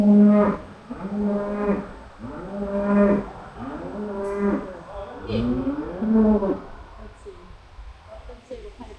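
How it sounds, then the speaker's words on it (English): Cattle in a farm barn moo repeatedly, a series of long, loud, drawn-out calls that overlap one another at close range, with some background noise and voices faintly mixed in. "The cows weren't here last year."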